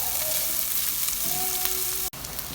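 Chopped onions frying in a karahi for mutton makhni karahi, a loud steady close-up sizzle of hot oil with light stirring, briefly cut off by a sharp click near the end before resuming.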